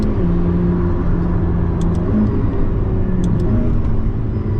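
Pagani Huayra BC accelerating hard at full throttle, a loud, steady engine roar and rumble heard from inside the cabin, continuous for the whole stretch with rising engine tones.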